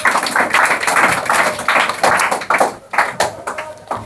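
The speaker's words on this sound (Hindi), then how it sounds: "जोरदार ताली मारो इस बच्चे के लिए" A classroom full of students claps for a pupil, a loud, close burst of rapid hand claps that continues for several seconds and thins out toward the end, with no one speaking.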